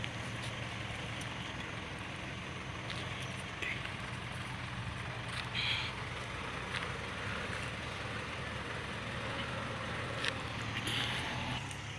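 A steady, distant engine drone from a tractor grading dirt for a road at a construction site rumbles continuously with a faint mechanical hum and occasional light clicks, like heavy machinery working outdoors.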